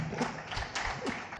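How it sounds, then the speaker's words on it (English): Audience clapping at a fintech conference, a dense patter of many hands rising and falling in brief swells over about a second and a half, moderately loud and close. "Clap for that, guys."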